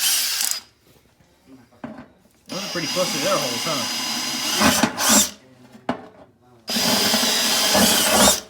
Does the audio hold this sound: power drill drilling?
yes